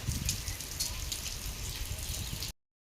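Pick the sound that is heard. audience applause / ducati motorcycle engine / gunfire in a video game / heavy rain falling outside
heavy rain falling outside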